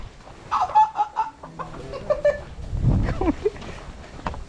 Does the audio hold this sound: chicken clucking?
yes